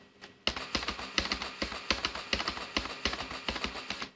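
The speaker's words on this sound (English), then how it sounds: "you can just use the shortcut key on the keyboard" A computer keyboard being tapped at a DJ software setup, a close run of quick, crisp key clicks in uneven bursts after a brief quiet start, with no voices.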